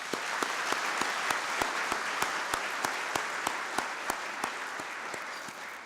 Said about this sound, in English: put our hands together in applause for KEPSA at 10 and Kenya at 50